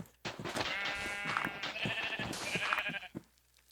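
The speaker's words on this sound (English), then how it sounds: "Feed all the sheep." Sheep bleat in the Minecraft video game, several wavering calls in quick succession, close and clear with nothing else heard.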